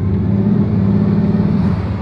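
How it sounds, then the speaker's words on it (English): A gold Bugatti's engine gives a steady, deep, loud rumble close by as light throttle is applied, with a low droning note and no talking. "We're gonna give a little gas here just to feel it out."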